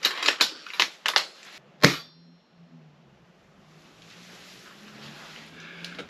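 Airsoft gun fired in a quick burst of five sharp, clacking shots followed by one louder crack, then a faint lingering hum; no talking.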